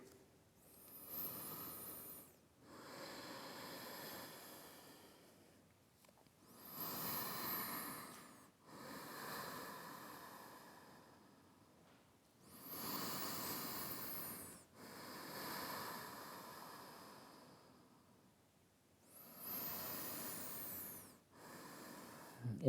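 Slow, deep breathing during an Ashtanga yoga sun salutation, close and quiet: about five long, hissing breath cycles rise and fall in an even rhythm, with no talking.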